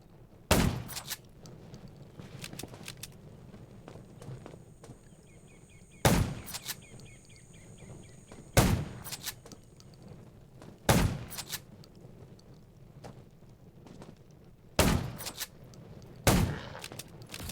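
Sharp gunshots in the zombie survival game Garena Undawn, fired singly or in short bursts at irregular intervals, loud and close, with a faint steady background hum between the shots.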